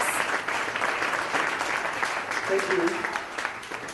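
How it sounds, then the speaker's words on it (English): An audience applauds as the kickoff speaker comes onto the stage at the Startup Turkey event, a steady wash of clapping with a brief spoken thanks near the end. "please give him a huge round of applause"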